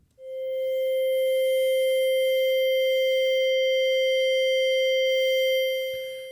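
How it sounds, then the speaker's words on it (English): A Nord Micro Modular synth holds a steady sustained tone with its sample rate randomly shifting, leaving sweeping, wobbly digital aliasing artifacts above it. The tone is loud and constant for about six seconds and then fades, with no talking. "you should be able to hear a random adjustment of the sample rate in real time, which should sound a bit wobbly."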